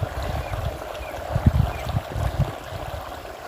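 Irrigation water flowing into a wheat field, a continuous low gurgling rush with small splashy surges, steady and close.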